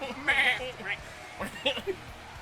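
A sheep gives a few short, wavering bleats at close range, mixed with people's talk.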